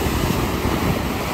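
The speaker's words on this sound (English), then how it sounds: "It's super windy out here" Strong wind roars steadily across the microphone outdoors in Puerto Rico, a constant buffeting rush with no pauses.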